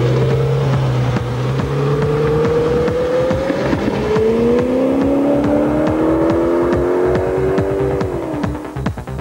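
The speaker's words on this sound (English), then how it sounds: "This tuned family sports car is aiming for more than 300 kilometers per hour." A tuned Audi RS6 family sports car accelerates at high speed on a test track, its engine note climbing steadily through the gears with a loud droning whine and a brief drop near the end.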